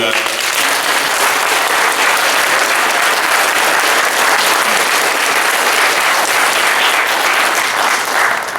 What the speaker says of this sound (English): Once again, we get a round of applause for Tommy